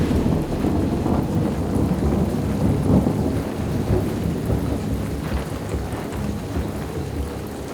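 Heavy rain pours with rumbling thunder during Storm Desmond in the Lake District, a steady loud wash of rain and low storm noise that carries on without a break throughout.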